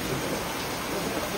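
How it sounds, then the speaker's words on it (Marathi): Heavy rain pours down in a dense, steady hiss with no pauses, filling the whole brief moment loudly and close by. "पाऊस बघा किती पडतो"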